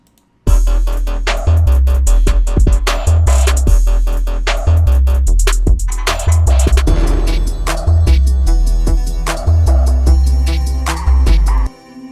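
An electronic track plays with punchy bass hits, bright synth chords and rhythmic percussion, loud and continuous before cutting off at the end.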